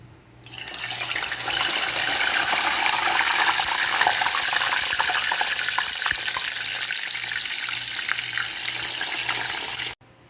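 Plantain pieces fry in hot oil over medium heat, a loud, dense, steady sizzle that starts abruptly and holds evenly for about nine seconds before cutting off.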